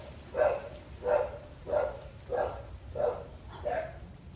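Neighbor's dogs bark six times in a steady, evenly spaced rhythm, each bark moderately loud and slightly distant, with no talking.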